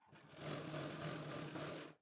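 A sewing machine stitches a blouse lining in one steady, close whirring burst of about two seconds, with no voices.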